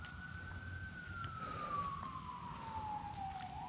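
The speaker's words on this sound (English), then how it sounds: "Now you can really hear the sirens." A single siren wails in a long, slowly falling tone, distant but clear over steady background hum.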